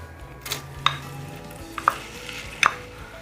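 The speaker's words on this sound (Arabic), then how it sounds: "نزلنا بالبصل بعد ما الزبده سخنت" Onions frying in hot butter in a pot, with a low steady sizzle. Three sharp utensil clinks against the pan stand out over it, and no one speaks.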